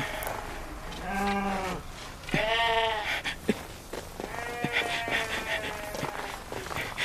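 Sheep in a flock give several distinct bleats, some close and loud and others overlapping and softer, over faint background noise.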